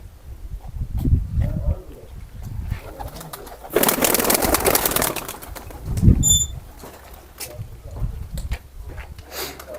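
Pigeons in a pigeon loft coo with low, soft murmurs, with a burst of wing flapping midway and a brief high chirp, while someone talks nearby.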